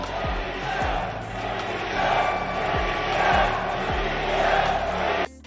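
Esports arena crowd at a Rocket League championship roars and chants for BDS, a sustained, loud mass of voices with repeated rhythmic thumps like stomping, cutting off abruptly at the end.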